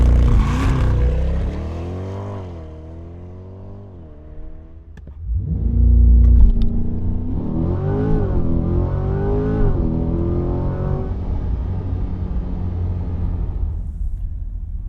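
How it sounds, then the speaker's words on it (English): A 2020 Chevrolet C8 Corvette Stingray engine is heard from inside while driving: a loud, close mechanical roar that rises and falls in pitch through gear changes, with a deep surge of acceleration midway and no talking. "driving the C8 Corvette"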